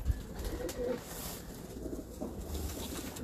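A pigeon coos in low, soft repeated phrases, close by and steady, over faint background noise.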